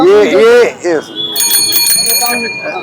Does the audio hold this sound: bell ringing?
yes